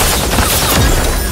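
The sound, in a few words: gunfire in the video game Super Mecha Champions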